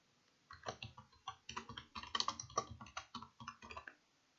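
Quick, soft clicks of a computer keyboard as item names are typed into an Excel sheet, irregular bursts of keystrokes close up and fairly quiet, with no voices.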